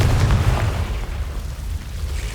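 A Confringo spell explodes in the Hogwarts Legacy video game, giving a deep, rumbling boom that stays loud and steady for its full length.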